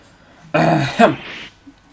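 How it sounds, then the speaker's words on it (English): A single throaty clearing sound in the video game Phoenix Wright: Ace Attorney, short and close, a rough rasp lasting about a second in otherwise quiet surroundings. "Maybe I should clear my throat."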